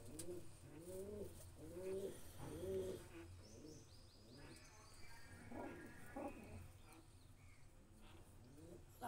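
Pigeons coo softly and repeatedly in rolling, throaty phrases, with a few small chirps and faint background noise, the whole scene quiet and close.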